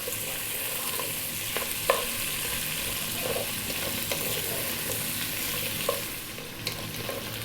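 Potato and carrot pieces frying in a pan over lively high heat for a vegetable curry, giving a steady sizzle with occasional stirring scrapes and clinks.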